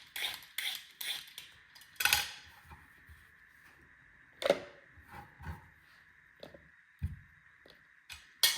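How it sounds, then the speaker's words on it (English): Carrot being peeled at home before making dark chicken stock, heard as quiet, irregular scraping strokes with a few sharper clicks and knocks from the peeler and board, spaced out across several seconds with no talking. "I will start with peeling my carrot"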